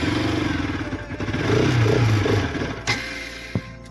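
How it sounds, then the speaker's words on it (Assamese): A dusty motorcycle, left unused for two days and low on fuel, is started close by. Its engine sputters and churns unevenly, swelling briefly before dropping back, followed by a couple of sharp clicks. "এতিয়া ষ্টাৰ্ট কৰি চাওঁ আৰু কি হয়।"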